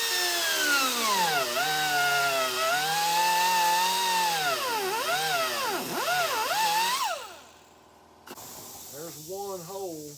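A power tool cuts holes in an aluminum Buick Regal nose, a loud, close, high whining buzz whose pitch swoops up and down as it bites, then stops and restarts briefly near the end.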